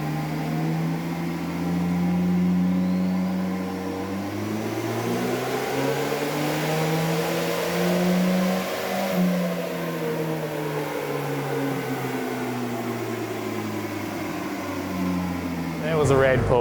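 A turbocharged Toyota 3RZ-FE engine climbs through a long wide-open pull on a dyno, its drone rising steadily in pitch then dropping away as the run ends, with loud, continuous tone and a brief sharp noise at the finish.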